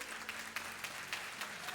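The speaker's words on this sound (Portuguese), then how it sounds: "Vamos aplaudir Jesus nessa noite" A church congregation applauds Jesus during an evening service, steady crowd clapping heard faint and distant, continuing evenly throughout.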